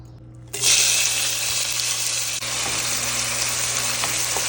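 Chopped onion hits hot oil with a sudden loud sizzle that starts abruptly and then holds as a steady, close frying hiss.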